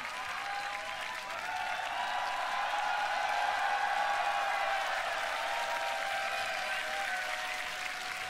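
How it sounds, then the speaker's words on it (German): Audience applause fills the hall after a tag team beatbox battle semifinal at the Grand Beatbox Battle 2023 World League, a steady, dense wash of clapping sustained for the full stretch with a faint crowd murmur underneath. "Applaus, Applaus, Applaus."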